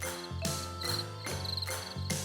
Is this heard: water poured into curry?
no